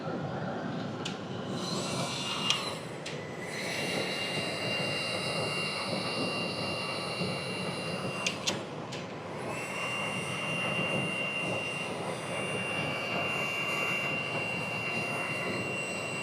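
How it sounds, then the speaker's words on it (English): A heat gun blows a steady, fairly quiet whooshing stream while a vinyl topographic-map overlay is applied to the glove box of a 2025 Toyota 4Runner, with a few faint clicks and brief pauses in the airflow. "Had to back the heat gun away just a little bit."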